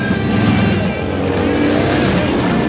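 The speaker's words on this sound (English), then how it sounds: "They're loud and they're fast and they're fun to ride." Harley-Davidson Dyna motorcycle engines roaring together in a loud, continuous dense rumble, close by and unbroken.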